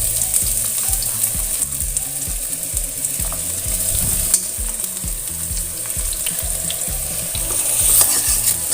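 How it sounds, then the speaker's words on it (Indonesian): Shallots and garlic frying in hot oil, a steady close sizzle with soft crackle and a few stirring scrapes throughout, no talk. "Setelah minyak panas, baru masukkan di sini bawang merah dan bawang putihnya."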